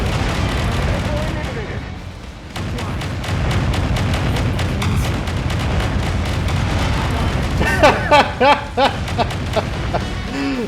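Heavy mech weapons fire continuously on full auto in MechWarrior 5 Mercenaries, a dense roar of blasts and booms with sharper rapid bursts near the end, under steady combat noise.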